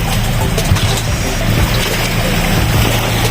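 A boat motor by the sea is pumped and churns with a loud, close, low rumble, mixed with steady water splashing and trickling throughout.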